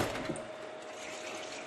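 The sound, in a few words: pouring water into a bottle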